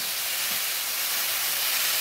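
Bottle gourd leaves fry in a pan with a steady, close-up hiss and sizzle. The sound holds constant and even throughout.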